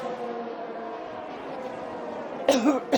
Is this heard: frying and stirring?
no